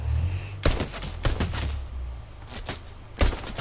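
Gunfire in a Fortnite match with an SMG and pistol: a few sharp, loud shots spaced irregularly over a low background rumble, no voices.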